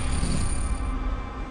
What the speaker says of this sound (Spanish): Oye el ruido de las piedras de fondo